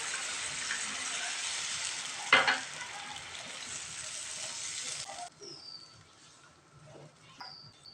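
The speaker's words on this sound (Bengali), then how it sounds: "আর 1 বাটি জল দিয়ে দেবো।" Water poured from a bowl into a pot of sizzling potato curry, a steady hissing fry that bursts briefly, then quiets to softer bubbling and faint clinks.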